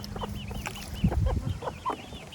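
Chickens cluck in short, repeated calls over a steady low background hum, several birds close by with irregular rhythm.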